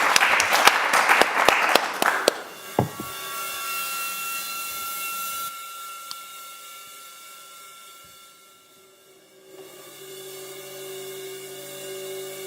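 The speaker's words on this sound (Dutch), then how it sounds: "Mag ik nog even een warm applaus van iedereen thuis, van iedereen in Zuid-Afrika voor Elton Kina" Applause for a performer at an international spoken word festival streamed online, opening as a burst of loud clapping that drops away within a few seconds and leaves a quieter hiss and tonal background.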